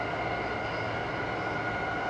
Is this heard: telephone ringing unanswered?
no